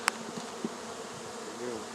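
Bees drone faintly in the background, a soft continuous buzz with a couple of brief clicks, quiet and distant, with no speech.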